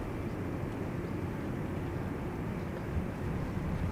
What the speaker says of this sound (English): Next airplane that will soon appear is Cargolux, arriving from Miami, Florida, 747-400.